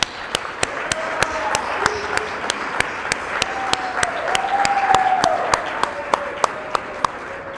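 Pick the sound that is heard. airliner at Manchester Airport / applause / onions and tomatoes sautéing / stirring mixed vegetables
applause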